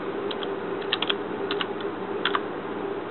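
A password is typed on a computer keyboard in a few short bursts of soft, close key clicks over a steady background hum.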